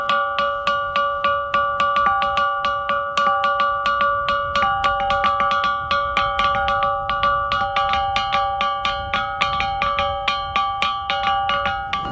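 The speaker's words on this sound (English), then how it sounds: "It's not a bell, but it's what we call the rock gong." Ancient rock gong in Sudan struck repeatedly in a steady rhythm, each hit ringing with a bright, bell-like metallic tone, loud and close, no talking.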